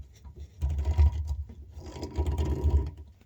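Hand riv nut tool squeezed to set a riv nut while fitting a Can-Am Defender skid plate, two short bouts of close mechanical grinding and clicking with a brief pause between.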